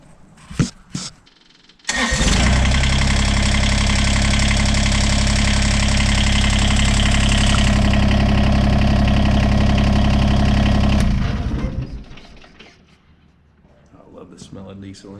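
Kubota BX2380 diesel tractor engine cranks and catches after a couple of seconds, then idles loudly and steadily for about nine seconds before shutting down; brief voices come before and after.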